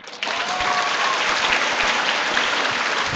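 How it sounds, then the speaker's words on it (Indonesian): A crowd gathered for a religious lesson bursts into applause, a sudden onset of dense, loud clapping that continues steadily and evenly to the end. "Jadi tepuk tangan untuk mereka."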